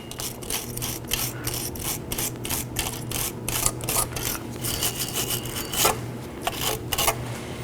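Repeated scraping and rasping as the lower brake shoe mounting points on the backing plate of a 2013-2019 Nissan Sentra are cleaned during a wheel cylinder job, a steady run of quick close-up strokes with a low hum underneath.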